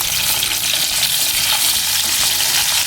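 Fish biryani pot on the stove coming to a boil, with a continuous close bubbling, hissing sizzle that stays even and steady throughout, with no voices.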